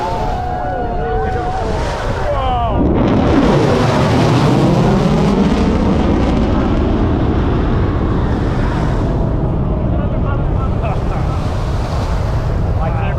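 A Rockwell B-1 bomber makes a high-speed flyby over Miami South Beach, a loud, roaring jet rumble swelling and sweeping past over strong wind buffeting, with crowd voices mixed in.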